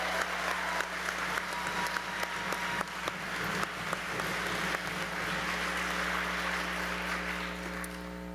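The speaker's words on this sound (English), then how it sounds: "let's give a round of applause" Applause from a crowd at a forum on racial inequality rolls on steadily for several seconds, dense and fairly loud over a low constant hum, gradually thinning toward the end.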